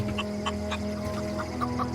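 Chickens cluck in The Outer Worlds video game, a run of short, fairly close clucks repeated over a steady low ambient hum of background game sound.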